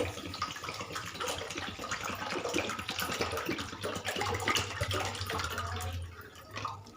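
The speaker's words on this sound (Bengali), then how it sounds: "জলটা আমি একটু বেশিই দেব।" Water poured steadily into a pan holding 500 grams of sugar for rasgulla syrup, a close, continuous splashing and trickling stream lasting several seconds with no voices.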